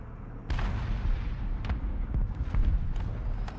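Rapid video-game gunfire in a multiplayer shooter, a burst of sharp cracks and thumps repeating irregularly over a steady background, loud and close.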